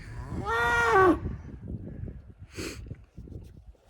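A weaned mixed-breed heifer lets out one loud, drawn-out moo close by, followed by a short snort amid quiet farm background.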